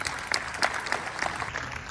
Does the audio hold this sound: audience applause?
yes